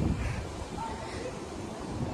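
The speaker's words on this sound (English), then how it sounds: "oh boy, it is pretty windy outside" Wind gusting across the open deck of a cruise ship, a steady broadband rush with microphone buffeting that stays loud and constant throughout.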